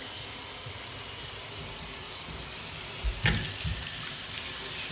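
Water pours steadily from Grohe taps into a big tub in a custom bathroom plumbed for high volume, a continuous close rushing hiss with a brief splash partway through.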